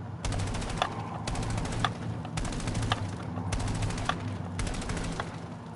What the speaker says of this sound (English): What you want to do instead is you want to shoot